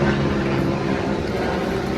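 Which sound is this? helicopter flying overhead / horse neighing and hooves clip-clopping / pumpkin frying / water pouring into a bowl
helicopter flying overhead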